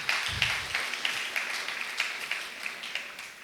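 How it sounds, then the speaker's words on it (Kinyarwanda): A church congregation claps together in a dense, lively burst of applause that keeps an even patter for a few seconds. "reka nsabe mwikomera amashyi menshi."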